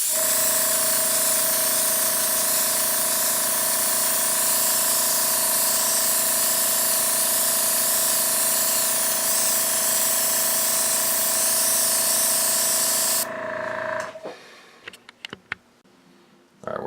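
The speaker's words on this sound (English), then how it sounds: "I'll just airbrush a little bit to show the effect we're going for" An airbrush sprays brown base coat paint onto a Zone Mortalis terrain model, a steady close hiss that runs alone for about fourteen seconds and then cuts off abruptly, leaving faint clicks and handling noises.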